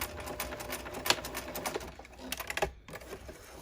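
A home sewing machine backstitches the ends of a fabric seam, giving a brief run of fast mechanical stitching with short bursts and pauses, close by and moderately loud against a faint background.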